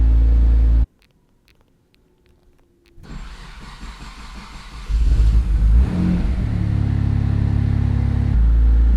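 Mitsubishi 3000GT with a 6G72 engine on an AEM Series 2 tune, warm-started and idling, a brief quiet gap before a low rumble that rises to a steady loud engine drone up close, with no talk.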